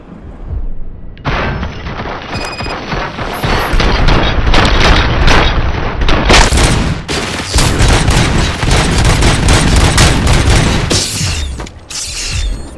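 Robocop Rogue City gunfire rages in sustained loud volleys, heavy booming shots and rattling automatic fire packed closely together for many seconds, briefly dropping out near the end before resuming.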